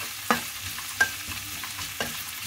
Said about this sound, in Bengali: দেখুন পেঁয়াজটা হালকা হালকা রেডিশ ব্রাউন হয়ে গেছে।